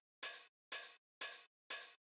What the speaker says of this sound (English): it's just like a nice kind of 909 hi-hat sample